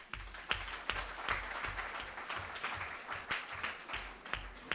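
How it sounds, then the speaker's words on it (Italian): Audience applause at an indoor talk or book presentation, a steady wash of many hands clapping at moderate loudness, continuous throughout with no voices over it. "La ringrazio, fate un applauso."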